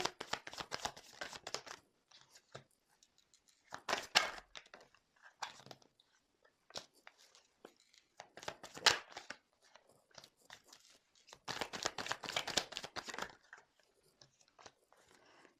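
Tarot cards are shuffled in several quiet, separate bursts of riffling and sliding, with short silent gaps between them.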